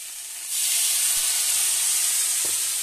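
Turmeric, chilli powder and other spices sautéing in a pan for a drumstick and fish curry, as a splash of water hits the hot oil and bursts into a loud, broad steady hiss and sizzle, with a couple of faint knocks.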